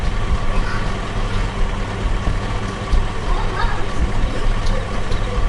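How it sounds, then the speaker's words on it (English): A heavy truck engine idles in Farming Simulator 22 with a low, steady rumble that persists throughout, close and fairly loud. "This is a truck"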